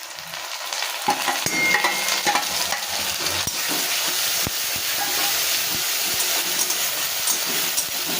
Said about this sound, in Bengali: এবার বেটে রাখা মশলাটা আমি পেঁয়াজের মধ্যে দিয়ে দেবো